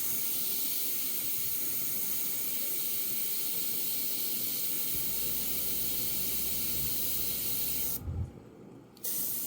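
An airbrush sprays paint onto a Mustang hood in a steady, close, continuous hiss that cuts out briefly near the end before resuming.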